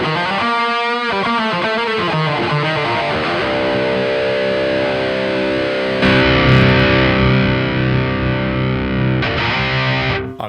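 Heavily distorted rhythm guitar run through a Laney Ironheart amp plugin, starting with fast palm-muted chugs, then ringing sustained power chords, loud and dense with no voices.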